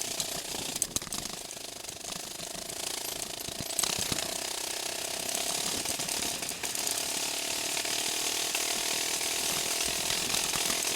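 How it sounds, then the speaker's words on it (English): Kawasaki KLR motorcycle sputtering while descending a mountain pass: a continuous rattling, ratcheting engine drone mixed with wind roar, steady and moderately loud, with occasional irregular knocks. "I'm coming down through here pretty hot actually, because this thing's sputtering"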